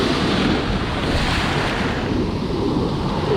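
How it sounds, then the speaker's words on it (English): Ocean surf surges at the shore, a loud continuous roar of breaking waves with wind buffeting the microphone and no talk. "That ocean is just trying to pull us out to sea."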